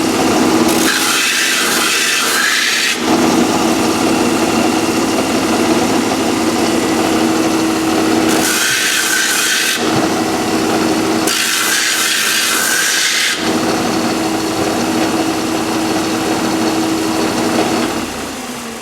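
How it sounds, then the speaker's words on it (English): Wooden guitar sides being sanded in a luthier's workshop: three separate bursts of harsh, broadband abrasive rasping over a steady background hum that runs the whole time. "Sand evenly from both sides."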